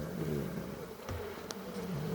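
Honeybees buzz in a continuous drone at the frames of an EPPS hive during a two-frame split, with a few brief sharp ticks breaking through the low hum.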